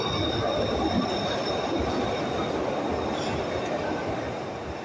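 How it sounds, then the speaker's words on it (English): A Glasgow Subway train pulls away on the outer circle, its steady rumbling roar filling the underground station for several seconds, with faint wheel squeal on top and no talking. "ready to go is this Glasgow subway train. Off on the outer circle"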